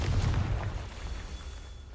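A Confringo blasting spell in Hogwarts Legacy: one deep, loud explosive boom at the start that rumbles and fades away over the next two seconds.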